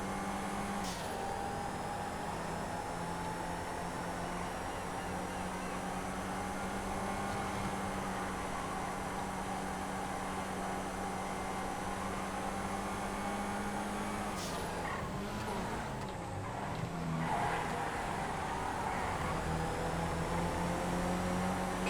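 A bulldozer driving in GTA FiveM gives a low, steady engine drone that holds unchanged throughout, moderate in level with a slight shift near the end.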